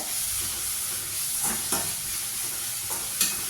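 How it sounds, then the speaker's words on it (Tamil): Spinach leaves sautéing on a high flame for ragi keerai adai, giving a steady close sizzle and hiss with a few sharp stirring scrapes at irregular moments, and no talking. "நல்லா ஐ ஃப்ளேம்லேயே வச்சு இந்த கீரையை கொஞ்சம் அப்படியே வதக்கிடுவீங்க"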